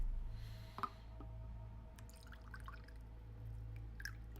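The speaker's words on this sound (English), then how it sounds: "Can you hear me pouring it?" Rum poured into a small shot glass at a desk, a soft close trickle and splashy drips over a steady low electrical hum, with no talking.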